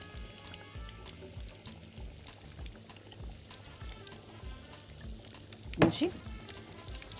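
Butter and a little oil melt in a hot pan, giving a faint, steady sizzle with a brief louder scrape or pour midway and someone speaking over it.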